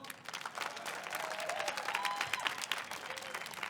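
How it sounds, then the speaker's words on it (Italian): Audience applause at a comedy show in Rome, a dense steady wash of clapping from a large crowd that holds for several seconds, fairly close and full. "Fatemi sentire un applauso."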